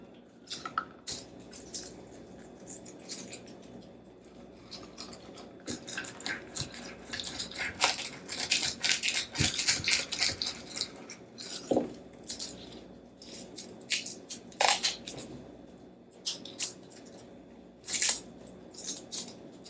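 A garlic peeler works on whole garlic bulbs in a kitchen while pasta sauce is prepared for canning, giving irregular clicking, rattling and scraping bursts of papery skins and cloves knocking around, moderately close with no talk.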